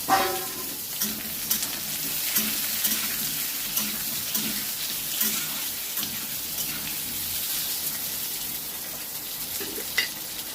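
Cut, washed potatoes frying in hot oil with browned onions for a thin rohu fish and taro curry, a steady broadband sizzle running the whole time with occasional soft stirring clatters, close and even.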